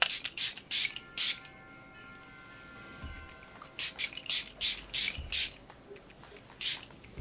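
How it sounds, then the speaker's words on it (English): Short hissing spritzes of Huda Beauty Resting Boss Face setting spray from a pump bottle, several quick bursts in two clusters, close and fairly loud with no talking. "I'm gonna follow up with my Huda Beauty Resting Boss Face Setting Spray."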